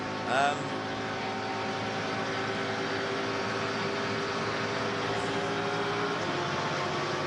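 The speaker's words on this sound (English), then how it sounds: "Let's listen to the engine." Race car in the Rolex 24 at Daytona sports car race, a steady droning engine note with sustained harmonics, held at a constant pitch, with a brief louder burst near the start.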